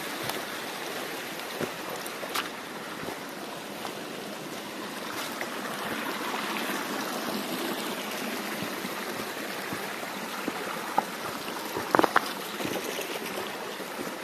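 A river stream flows through a forest with a steady, soft rushing and trickling that continues throughout, with a few faint clicks and knocks near the end.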